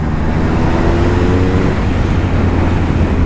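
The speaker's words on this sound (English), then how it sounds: "And the exhaust note, man, the exhaust note of this motorcycle is so good." Exhaust note of a 2022 Triumph Speed Triple 1200 RS motorcycle, a loud, steady engine drone heard close while riding, with a faint rising tonal whine in the first half.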